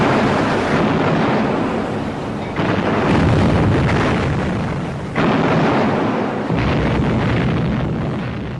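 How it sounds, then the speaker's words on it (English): A huge explosion as a shell from the German battleship Bismarck strikes the magazine of the British battleship HMS Hood in the May 1941 naval clash. A loud, sustained roaring rumble is heard, with fresh surges breaking in every few seconds. "There was a huge explosion."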